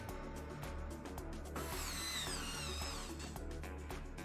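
A power screwdriver drives the last screw into a PC build in a Corsair 5000D case, a close, whirring, grinding buzz with a rising squeal midway. It runs steadily for a few seconds, quiet overall.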